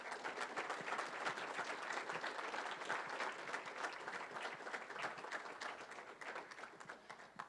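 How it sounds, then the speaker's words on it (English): Audience applause at an athletics hall of fame induction ceremony, a sustained, even patter of many hands clapping, heard from a slight distance without voices over it. "One last round of applause for those young men."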